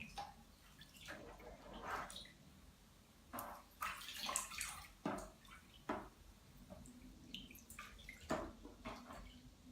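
Sesbania flowers being washed in water, with soft splashing, dripping and wet squishing in irregular bursts close by, fairly quiet overall.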